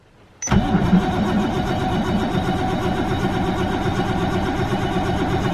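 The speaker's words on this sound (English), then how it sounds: "get ready for the most cringy E85 cold start you've ever heard" An R32 Skyline drift car running on E85 fuel cold starts after a short crank, catching abruptly and settling into a loud, lumpy idle close to the microphone.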